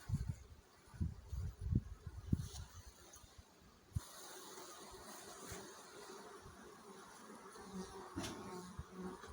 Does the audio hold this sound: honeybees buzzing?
yes